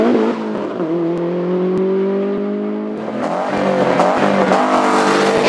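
A turbocharged Subaru Legacy races up the Shelsley Walsh hillclimb at a British Hillclimb Championship event, its engine loud and close, holding a steady strained drone before climbing through rising revs, with no talk over it.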